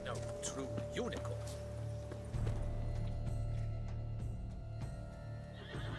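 A horse in The Witcher 3 game clip-clops along with a whinny, its hoofbeats close and rhythmic while voices talk over it.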